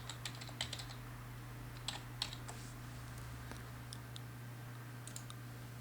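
Quiet, brisk keystrokes on a computer keyboard, a few irregular clusters of light clicks entering a query, heard alone over a steady low electrical hum.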